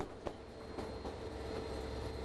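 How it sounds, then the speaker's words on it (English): The White Pass railway train climbs slowly out of a valley floor near the East Fork of the Skagway River, a continuous low rumble of rolling cars with faint rhythmic wheel clicks and squeals, close and steady. "Up front, some additional power is applied to pull the train out of the valley floor."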